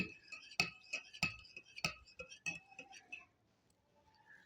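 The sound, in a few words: spoon stirring wellness drink in a glass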